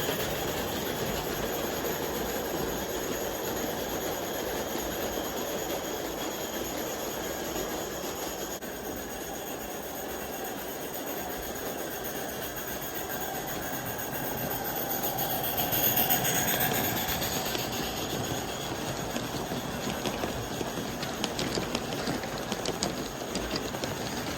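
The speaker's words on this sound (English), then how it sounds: "Well, Henry, it has an appropriate chuff like every other steam engine" A small Aristo-Craft G-scale live steam model locomotive rumbles and chuffs continuously, with wheel noise growing louder toward the end and faint squeals; no one speaks.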